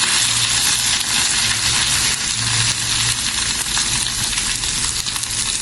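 Garlic tempering in oil in a frying pan for a cauliflower stir-fry, giving a steady, loud, continuous sizzle and crackle close up, with no voices over it.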